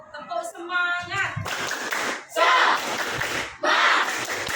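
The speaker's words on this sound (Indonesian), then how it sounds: "Tepuk semangat." A classroom of students performs a rhythmic group clap, a quick patterned sequence of claps followed by bursts of loud clapping and cheering voices, close and energetic.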